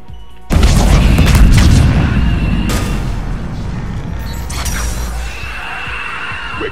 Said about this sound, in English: I'm just throwing virtually all of my grenades